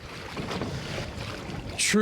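Choppy waves and gusty wind buffet a Coosa FD pedal fishing kayak in high wind, a close, steady rumbling wash of water and wind noise on the microphone that grows louder near the end.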